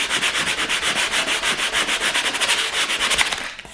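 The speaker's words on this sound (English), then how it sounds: "I'm just going to give it a quick sand" Quick back-and-forth sanding scrapes across the back of a cheap Poundland photo frame, a fast, even rasping rhythm close by that stops abruptly near the end.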